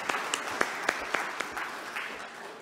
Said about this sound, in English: Let's clap and thank them.